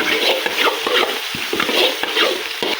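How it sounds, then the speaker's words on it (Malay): A spoon stirs a sauce of palm sugar and oyster sauce in a frying pan for Toman fish, giving a continuous scraping swirl over a soft sizzle, with no talking. "Jadi kita kacau."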